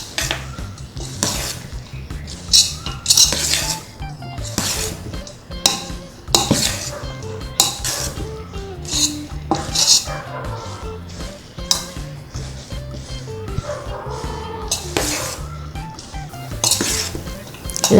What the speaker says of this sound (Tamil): சூடாக எடுத்து எல்லா பக்குவத்தையும் அதில் நல்லா வர மாதிரி கிளறிக்கணும்.